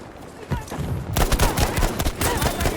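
Gunfire from an M1 Garand rifle in the shooter game Battlefield V, with several sharp shots and surrounding battle fire that turns into a dense, loud barrage partway through.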